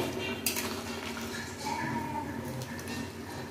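Crab curry being stirred in a pan, a metal spoon clinking and scraping against the pot over a faint background hum.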